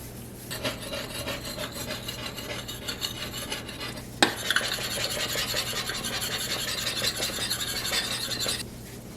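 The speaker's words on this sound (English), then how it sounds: "So I put the Weimen on and I immediately start to scrub." Steady, close scrubbing grinds and rasps on a glass ceramic cooktop coated with Weiman cleaner, continuous for several seconds with a brief knock midway, then stops.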